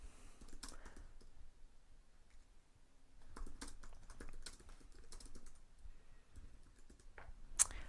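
Quiet keyboard typing as Arduino program code is written, with soft scattered keystrokes over low room noise and one sharper click near the end, no talking.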